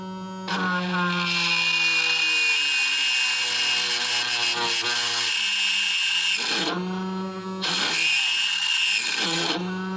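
A Chinese drill press runs with a freshly changed bit, its motor whining steadily with harmonic tones that dip and rise as the bit bites, stopping briefly and restarting, with a person speaking over it.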